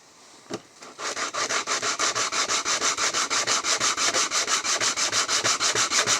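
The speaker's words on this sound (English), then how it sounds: "All we're doing here is sanding this here." Hand sanding of a wooden piece, a steady series of rhythmic back-and-forth rubbing strokes after a brief knock at the start, close and loud with no talking.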